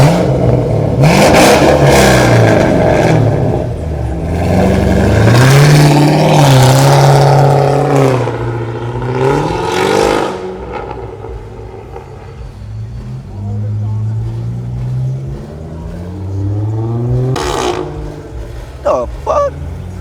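A car engine revs hard at a riverside car meet, with loud repeated rises and falls in pitch and a turbo, while people close by shout and talk over it.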